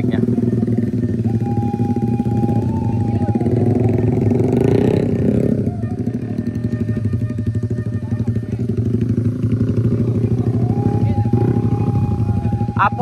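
A Honda Sonic motorcycle labours up a muddy hill at Bukik Gandum, its engine loud and close, revving hard in sustained strained bursts while voices talk and shout in the background.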